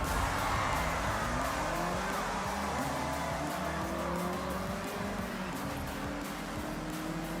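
Race car engines in Forza Horizon, a four-wheel drive Galant among them, roar steadily and loudly with rising and falling revs throughout and no talk.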